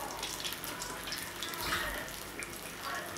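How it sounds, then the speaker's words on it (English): Running tap water splashes steadily as a fork is rinsed under it while cornmeal cooks, a close, continuous wash sound with no talking. "and wash the fork"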